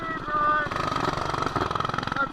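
A mini bike engine revs hard on a top speed run, a buzzing, rapidly pulsing small-engine rasp that stays loud and close throughout the short burst.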